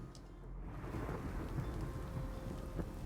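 Steady rain with a low rumble of thunder on a custom physics-based Trials Rising track, a continuous wash of downpour that stays even throughout with no talking.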